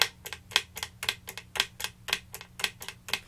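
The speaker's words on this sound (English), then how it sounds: "I'll tap a tempo to the quarter note now." Steady clicking taps on a Guyatone Ultrem pedal footswitch, about a dozen evenly spaced sharp clicks at a moderate tempo, close up, over a faint low hum.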